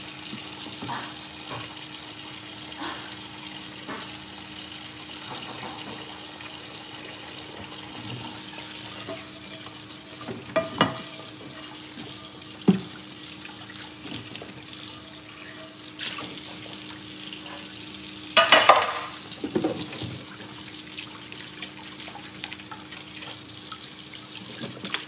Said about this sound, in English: Just wash your dishes.